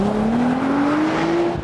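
A 380-horsepower car launching hard from a standstill, its engine note climbing steadily in pitch, loud and close, with a faint tire squeal.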